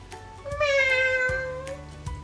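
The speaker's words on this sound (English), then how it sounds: "Meow. The kitten stared at Wittilda with wide, scared eyes." A kitten gives a single drawn-out, rising-then-falling meow, close and clear with no other sounds around it.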